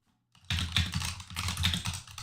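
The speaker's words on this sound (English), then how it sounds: "now I can type completely normally, but then out of nowhere, I'll just be typing the same sentence" Rapid typing on a computer keyboard, a dense run of close, loud key clicks after a brief silence, continuing steadily to the end.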